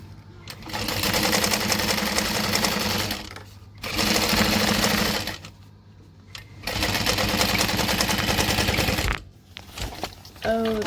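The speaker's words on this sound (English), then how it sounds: "we're going to top stitch down that" Sewing machine top stitching a bag seam on a hobo bag: three long, close runs of rapid, even stitching chatter, separated by brief pauses, with a softer clatter near the end.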